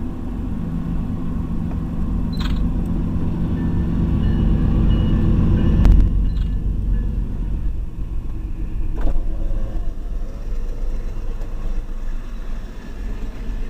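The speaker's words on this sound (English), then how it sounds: "Now I think our train's here." Train pulling into a station on a snowy day, a steady low rumble building then easing, with a brief clank partway through and no voices.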